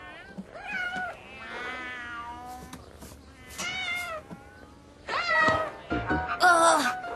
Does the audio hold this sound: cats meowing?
yes